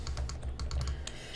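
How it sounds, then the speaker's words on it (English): A computer keyboard clicks in quick, close typing, a run of light keystrokes at an uneven rhythm with no voices. "sorry if you can hear the clicking"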